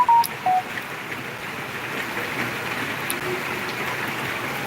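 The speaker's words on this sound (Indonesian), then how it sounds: "Di sini kondisinya hujan masih lebat." Steady broadband hiss of heavy rain pouring continuously during a flood in Palembang, with a couple of brief tonal beeps near the start.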